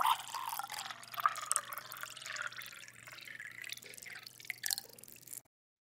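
Coffee pours into a cup in a sound effect slowed to about seven seconds, giving a bright trickling, dripping stream that wavers in strength and then stops abruptly, close and alone.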